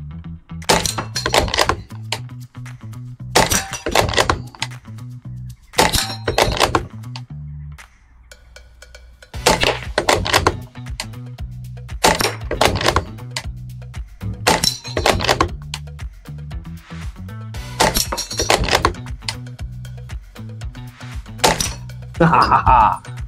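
Air gun pellets strike a target in a series of sharp, loud thwacks and cracks, arriving in irregular clusters separated by brief quiet gaps, close by, with a voice talking in between.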